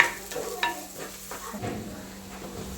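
Chopped onion and green chilli stirred in a hot pan for a Kerala fish curry, with a spoon scraping in short strokes over a soft, continuous sizzle of frying, close and fairly quiet.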